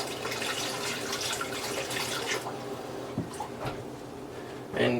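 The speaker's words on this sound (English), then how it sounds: "Let me wash my hands first." A tap runs while buttery hands are rinsed beneath it, a close, steady splashing rush that eases partway through and ends with a short louder splash.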